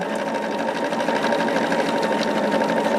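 A sewing machine stitches hourglass quilt blocks, its needle whirring in a loud, steady, rapid hum from start to finish.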